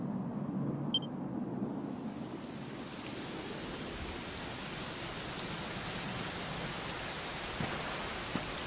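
Steady rain falls in Dragon Quest XI, a broad, even hiss of downpour that swells in after a brief quieter opening and then holds, with no voices.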